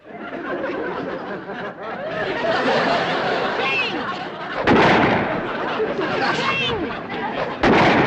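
Shotgun blasts at skeet targets in an outdoor sitcom scene: two loud, sharp booms, the second near the end, ring out over continuous conversation and chuckling.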